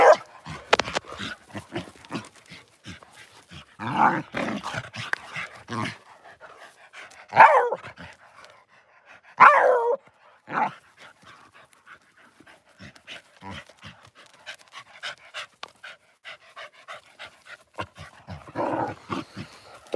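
Several dogs, including a brown one, barking in short bursts and panting close by, with scattered yips across an outdoor scene and no talking.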